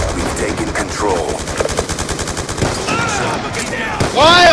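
Rapid automatic gunfire in the video game Black Ops 2, dense bursts of shots close up with a loud game mix, other effects and a brief voice under the shooting.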